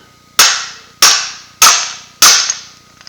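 Four sharp metallic hammer-punch strikes drive a BSA cartridge bottom bracket axle out, evenly spaced about every 0.6 seconds, loud and close with short ringing decays and no talking.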